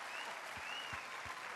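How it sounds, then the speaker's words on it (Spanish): A large festival audience at a stand-up comedy set in Olmué applauds in a steady, distant wash of clapping, with a few low thumps beneath. "Un aplauso para el maestro ahí."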